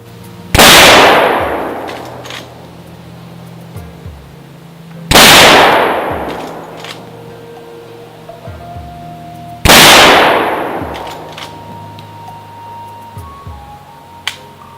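Three sharp rifle shots ring out outdoors, a few seconds apart, aimed at a target 36 yards off, each a loud crack followed by a long fading echo.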